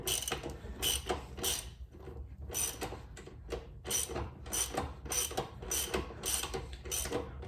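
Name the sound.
ratcheting out a bolt on a Kx65 dirt bike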